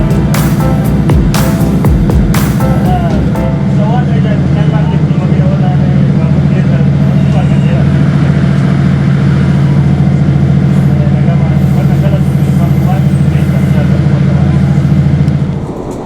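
A two-carriage train pulls out of Middlesbrough station, heard from inside as a steady, loud low engine drone with rumbling and faint rattles. A voice may be heard at the start.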